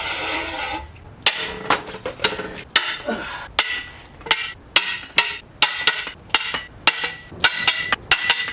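Tight E-Torx E20 head bolts on a Nissan QR25 engine block laid on its side being broken loose with a socket, a run of sharp metallic cracks and clanks in irregular bursts, close and fairly loud, with no talking.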